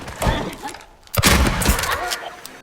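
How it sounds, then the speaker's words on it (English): A shotgun fires in Silent Hill 2, loud broadband blasts with a sharp, heavy report around the midpoint and a busy, reverberant scuffle of game action before and after. "The guns in this game are satisfying to use"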